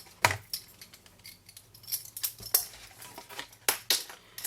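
Scissors snipping through scored cardstock while making a tall box, a series of short crisp cuts at an uneven pace, close and fairly quiet with no talking.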